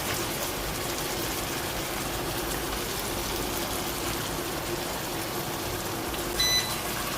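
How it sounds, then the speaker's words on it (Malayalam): Water from rinsing a mixer jar poured into a tomato and drumstick erissery curry, a steady soft gushing splash that runs without a break. "ജാറ് കഴുകി ഒരല്പം വെള്ളം കൂടെ ചേർക്കാം."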